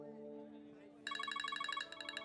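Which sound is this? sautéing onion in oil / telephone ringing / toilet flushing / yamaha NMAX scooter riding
telephone ringing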